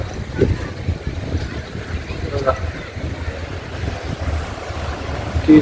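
Sea waves wash and churn steadily at Dadar Chowpatty beach, Mumbai, with gusts of wind buffeting the microphone, and people talk faintly in the background.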